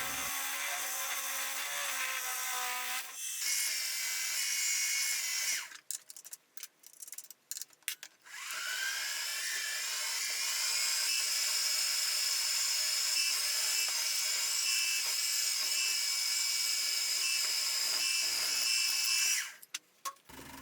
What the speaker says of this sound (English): I'll then take it to the mill and drill a hole on one side.